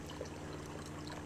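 Water runs from a tap in a steady, soft stream, a low continuous pouring wash heard faintly for just over a second without talk.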